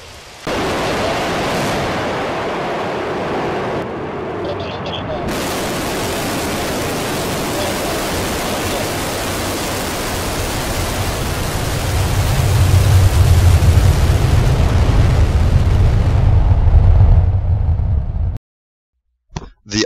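R-7 rocket launch, a loud sustained broadband roar that builds in low rumble toward the end before cutting abruptly to silence.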